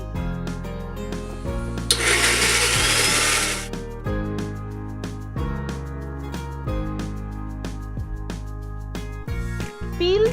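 An electric blender grinds tomato, ginger, garlic and green chili into a paste, its motor whirring in a sequence of loud bursts with brief pauses between them.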